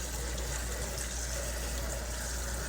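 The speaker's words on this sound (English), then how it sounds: "So I'm rinsing the sprouts." Running water rinsing wheatgrass sprouts, a steady even gush like a tap flowing without pause, close and continuous.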